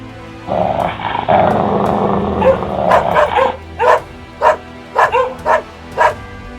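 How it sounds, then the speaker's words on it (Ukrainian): Dogs bark in a forest in a dramatized manga voiceover, starting with a growling, whimpering tangle and then giving a run of loud, close, evenly spaced single barks. "Вгамуйте цих псів щоб зараз не розбудили тут увесь ліс."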